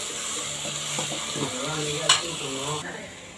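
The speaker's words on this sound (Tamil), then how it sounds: "தக்காளி போட்டாச்சு. இதை நல்லா நம்ம வதக்கிக்கலாம்." Tomatoes sautéing in a frying pan for a chicken dish, a steady soft sizzle with stirring, a brief bright scrape near the end, and a voice talking over it.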